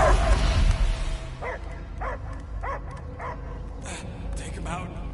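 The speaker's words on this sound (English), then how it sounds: "I hear only barking." A dog barks repeatedly in the video game Guardians of the Galaxy, a series of evenly spaced short yips and barks at moderate volume, set against a low rumbling game soundtrack with a voice heard briefly at the start.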